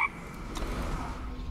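Frog croaking from a Rain of Frogs card effect in the Eternal card game, a short burst of croaks at the start, then a low steady hum with faint clicks.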